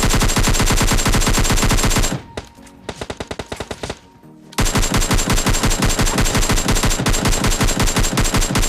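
Rapid automatic M4 rifle fire in a video game, loud sustained bursts that break off for about two seconds of scattered shots and quieter sounds before the heavy fire resumes and continues.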